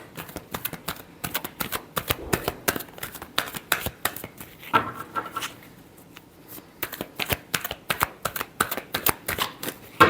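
Tarot cards being shuffled in a repeated final shuffle: rapid, close riffling and flicking bursts in an uneven rhythm, with a brief pause partway through, no talking.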